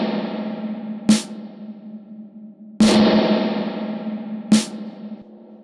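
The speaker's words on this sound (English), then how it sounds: "to give a big sounding and delayed reverberations" Arturia Reverb Spring-636 spring reverb plugin set for a big, delayed reverberation: a sustained tone with three sharp hits, each blooming into a long, washy tail that slowly fades.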